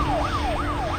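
A police siren in the Need for Speed Most Wanted video game wails in a steady, repeating up-and-down sweep. It is loud and close, set over dense engine and road noise.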